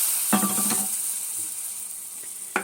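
Lentils hit browned vermicelli in a hot pot for lentil soup, setting off a bright sizzling hiss with a couple of sharp bursts as they land, over a steady background frying hiss.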